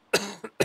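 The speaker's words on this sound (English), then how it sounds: "Coughing fit." A person has a coughing fit, three sharp, close coughs in quick succession with brief gaps between them.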